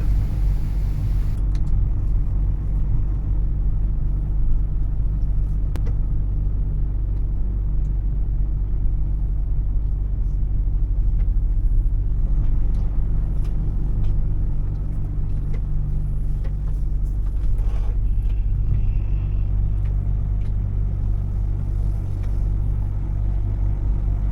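Truck cab interior on a European road between Italy and Germany, with a steady loud low engine and road rumble droning continuously throughout and no talk.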